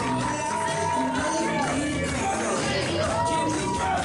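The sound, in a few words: wrestling crowd cheering for the Magic Man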